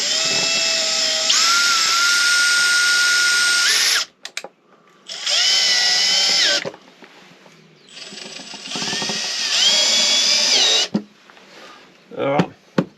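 A power drill runs in three long whirring bursts, each spinning up and down in pitch, loud and close, with quiet gaps and a voice speaking between them.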